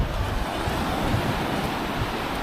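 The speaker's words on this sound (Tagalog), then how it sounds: "Nandito kami sa Bituon Beach Resort." Sea waves wash steadily onto the shore at a beach resort, a continuous broadband roar of surf mixed with wind buffeting the microphone, with no talking.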